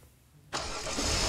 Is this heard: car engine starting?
yes